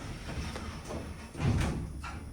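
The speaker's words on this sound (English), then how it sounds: "a 3-speed door in the center of the elevator cab" Center-opening three-speed door of a wide Westinghouse traction elevator cab in the Medico-Dental Building slides with a short, close rumble that swells briefly midway, with no talking.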